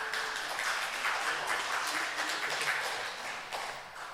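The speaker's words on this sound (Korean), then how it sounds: "여러분 박수로 환영해 주시기 바랍니다." Audience in a church applauding to welcome returning guests, a steady wash of many hands clapping at moderate level throughout, with no talk over it.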